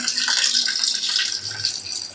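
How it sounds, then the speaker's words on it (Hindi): Water poured from a tap-like stream into a pot of mutton curry in a room kitchen, a steady continuous splashing pour lasting throughout, close and fairly loud with no talking. "अभी थोड़ा पानी इसमें डाल देगा।"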